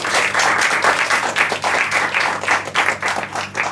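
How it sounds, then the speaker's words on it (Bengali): Steady audience applause at a parliamentary-style debate competition held in a café, dense continuous clapping from a crowd sustained throughout with small swells. "সেই চমৎকার আয়োজনের জন্য সবার পক্ষ থেকে একটি জোরে হাততালি আশা করছি"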